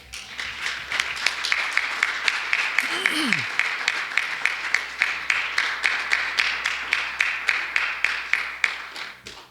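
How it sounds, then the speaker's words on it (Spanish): A church congregation applauds in praise, with dense clapping building into an even, rhythmic beat that carries on steadily, while a voice briefly calls out over it. "denle un aplauso al Señor"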